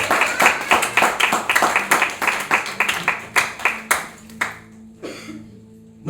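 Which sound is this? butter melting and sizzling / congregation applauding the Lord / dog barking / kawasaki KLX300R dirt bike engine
congregation applauding the Lord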